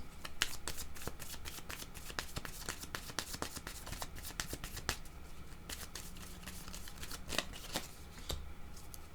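Playing cards shuffled by hand for a card reading, a close, steady run of crisp riffling snaps and flicks that continues throughout with no talk.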